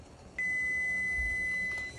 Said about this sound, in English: 20 minute timer is going off.